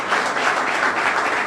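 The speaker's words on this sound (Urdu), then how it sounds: "زوردار تالیاں اس بچے کے لیے" Listeners at a church sermon give a child loud, steady applause. The clapping is close and dense, with no pause, for the full moment.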